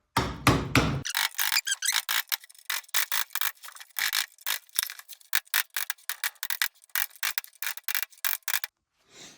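Bent bolt keeper tabs on a Toyota Supra differential are pressed back with a tool, giving a long run of quick, close metallic scraping and tapping strokes with brief pauses between them.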